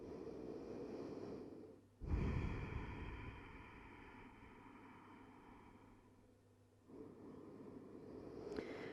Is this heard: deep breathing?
yes